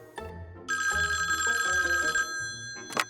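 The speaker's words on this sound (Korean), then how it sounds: "그러던 중 한 통의 전화가 걸려옵니다." A telephone bell rings loudly in a single sustained burst of clangorous ringing, starting near and cutting off after about a second and a half, with a short rustle following.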